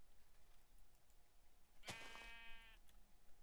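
A sheep in the Minecraft video game lets out one loud, wavering bleat lasting about a second against a quiet background.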